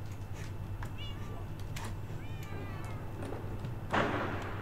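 Cats meow in the blocky survival game Minecraft, several short mewing calls scattered over a low steady hum, with a brief louder burst near the end and occasional background voices.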